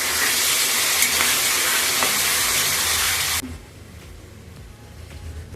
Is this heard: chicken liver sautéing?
yes